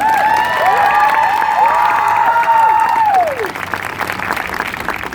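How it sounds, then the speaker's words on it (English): An outdoor crowd at a Take Back the Night rally at City Hall in St John's claps steadily while cheers and whoops rise over it, the voices fading near the end as the applause continues. "Can we start by getting a round of applause for Nicole and her fantastic team?"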